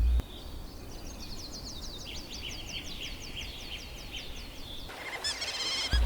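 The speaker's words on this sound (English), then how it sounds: "when the first sunlight shines down, cheerful chirping sounds begin to ring out." Rapid, repeated chirping calls from giant otters on a Pantanal river, a sharp, trilling series that rises and falls in pitch over steady ambient background noise, with a brighter burst of calls near the end.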